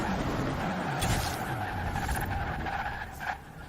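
A Nissan 300ZX in Forza Horizon 4 drones steadily at sustained revs with a hint of tire skid, swelling briefly near the end before easing off.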